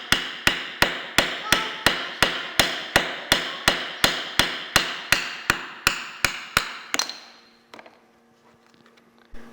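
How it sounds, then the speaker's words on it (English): Plastic hammer knocking a grommet out of a KTM 690 motorcycle fairing: about twenty sharp, evenly spaced close blows in steady rhythm, then a few lighter scattered taps and quiet rattling. "Now take a plastic hammer, and you have to really use a bit of force"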